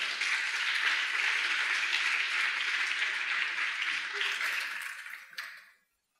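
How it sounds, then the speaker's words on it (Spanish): An audience applauds steadily to welcome a speaker before a lecture on immunodiet, a dense, loud wash of clapping that holds for about five seconds, then thins and quickly dies away to silence. "Un fuerte aplauso, por favor."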